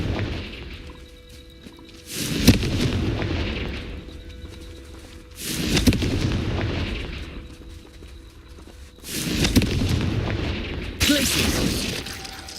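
Confringo fire spell blasts in the video game Hogwarts Legacy: four loud, booming bursts spaced a few seconds apart, each with a crackling, shattering tail over steady game ambience.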